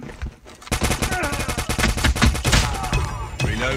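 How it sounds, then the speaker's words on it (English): Rapid machine gun fire in the Call of Duty Mobile video game, loud sustained bursts of closely spaced shots after a brief lull, tapering off near the end. "Indeed, a machine gun."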